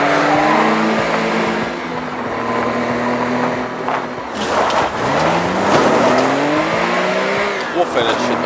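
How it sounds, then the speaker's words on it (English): A rally car in the video game Teardown revs hard with rising and falling engine pitch through gear changes, with tire squeals, skids and thumping impacts from jumps. Talk can be heard in places over the engine. "I might be upset, but we're in rally cars."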